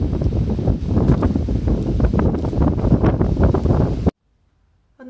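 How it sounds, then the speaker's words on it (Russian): Strong, steady cold wind in Gelendzhik roars and buffets the microphone for about four seconds, then cuts off abruptly to near silence. "на Геленджик обрушились дожди и холодный ветер"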